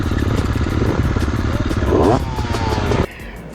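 An FX 350 dirt bike fitted with SP suspension, its engine buzzing and revving loudly up close while being ridden, with clattering over rough ground and a sudden drop in engine note near the end.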